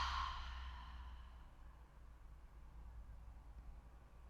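A single long exhale through the mouth during a yoga breathing exercise, a soft breathy whoosh that starts strongest and gradually fades, quiet and close.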